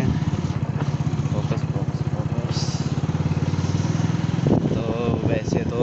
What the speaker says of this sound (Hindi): तो अभी बाइक चला रहा हूँ